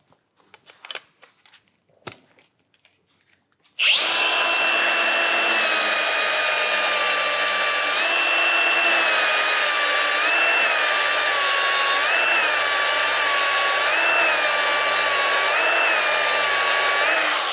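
A power tool polishes stainless steel butt welds with 240 grit. After a few faint knocks it starts up and runs as a loud, steady, high whine, with slight wavering in pitch as it works the metal.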